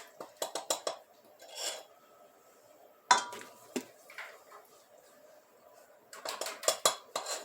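Flour being measured into a bowl for homemade tandir bread, heard as quiet, irregular clinks and scrapes of a cup and utensils against dishes, a louder knock in the middle and a busy cluster of clatters at the end.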